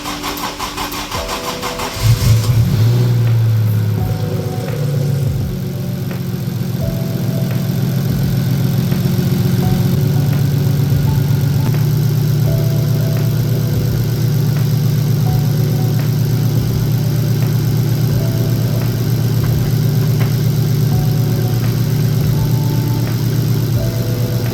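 A Toyota 1JZ/2JZ car engine, freshly fitted with a new power steering pump, cooler and filter, cranks and catches, then settles into a steady, loud, close idle with a low even hum that carries on alone.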